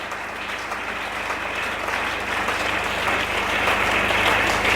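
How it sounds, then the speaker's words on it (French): A church congregation applauding loudly, a dense continuous clapping that swells slightly toward the end, with no talk over it. "on acclame très fort pour la gloire de Jésus."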